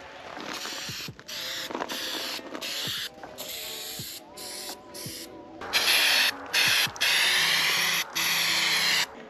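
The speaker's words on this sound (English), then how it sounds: "This is the spray paint I'm using in case anybody cares." Several short bursts of spray paint primer hissing from an aerosol can, the later ones louder and longer, with faint clicks and rattles between them.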